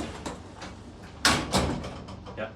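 Doors of a 1960s Otis service elevator in a Madrid department store opening, a sharp clunk followed by a second rolling thump and a softer knock, close and moderately loud over a low hum.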